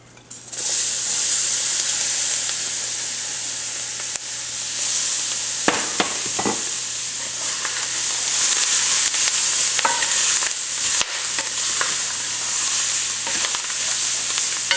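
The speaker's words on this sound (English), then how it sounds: "So now we are going to add in all our vegetables." Vegetables hit a hot roux for Creole shrimp stew and sizzle loudly and continuously, with a few scraping stirs and clinks of a spoon against the pot.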